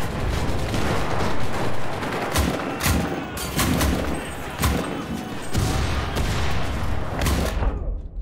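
Gunfire from the World War II shooter game Enlisted crackles in rapid bursts and scattered single shots with dull booms, loud and dense across the stretch.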